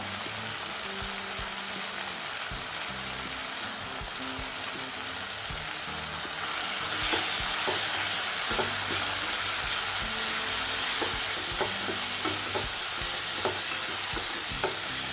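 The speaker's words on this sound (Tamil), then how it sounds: "ஒரு நிமிஷம் நல்லா வதக்கி விடுங்க. மசாலாவோட பச்சை வாசனை நல்லா போகணும்." Tomato and spice masala sauté in a pan for a small-onion kara kulambu, with a soft sizzle that swells to a louder, steady frying hiss partway through and repeated scraping stirs of a spatula, and no talking.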